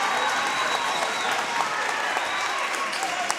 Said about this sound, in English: And listen to this Lilly Center crowd get into it